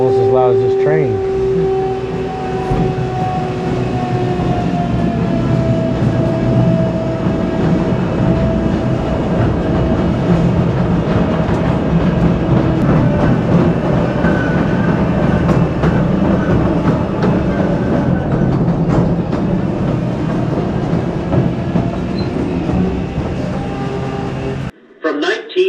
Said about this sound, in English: Probably almost as loud as this train